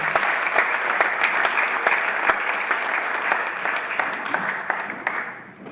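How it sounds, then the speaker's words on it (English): A conference audience gives a sustained round of applause, with a dense wash of clapping and sharp individual claps standing out, tapering off at the end. "I just want you to give Clive a big round of applause."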